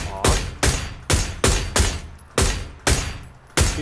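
Eight sharp, evenly spaced AUG rifle shots from PUBG on the Miramar map, each a loud broadband crack with a decaying tail, fired in a steady semi-rapid rhythm close by.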